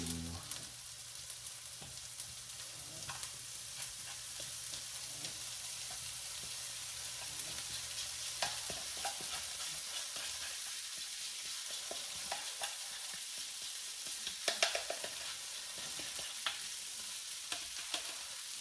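Tofu for a tofu scramble frying in a pan with fried vegetables, giving a dense, continuous sizzle with crackles and occasional scraping stirs throughout.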